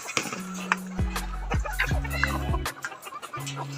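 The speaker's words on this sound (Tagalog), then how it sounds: "Subuan mo yung manok. Sarap yung pagkain nila guys." Chickens cluck and squawk close by while being hand-fed, with several sharp calls in quick succession and a low hum in the background.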